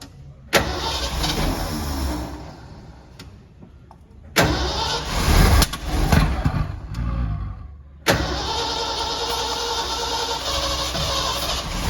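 A 1979 Ford L-600 service truck, a barn find started for the first time in 17 years, cranks and catches, then its engine runs loud and rough near idle, cutting out and restarting twice, with no talk.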